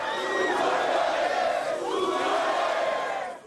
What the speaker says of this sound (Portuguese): Centenas de torcedores foram ao aeroporto Salgado Filho para se despedir do novo ídolo.